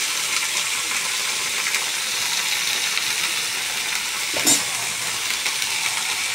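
Harbara bhaji, leafy chickpea greens, fry in a pan with a steady, close sizzle throughout, and a single brief clatter or scrape near the end as the greens are flipped; no one speaks.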